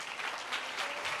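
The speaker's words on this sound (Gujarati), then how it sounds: "જોરદાર પરમેશ્વરને તાળીઓ આપીએ" A church congregation claps together during a sermon, a brief burst of dense, steady applause.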